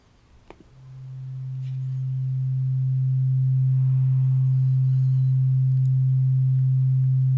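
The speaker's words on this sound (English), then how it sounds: "Now that is a standard sine wave, and it's 0 semitones." A steady, pure low synthesizer sine tone at 0 semitones in the Drambo app fades in after a brief click and holds smoothly, growing slightly louder, alone.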